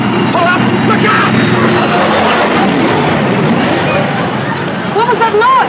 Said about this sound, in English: It sounded like a big plane.